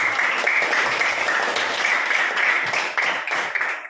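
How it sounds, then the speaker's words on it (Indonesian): Students in a classroom applauding: a steady, dense wash of many hands clapping together, sustained for several seconds at an even level before tapering slightly near the end. "tepuk tangan dulu untuk Dinda sama"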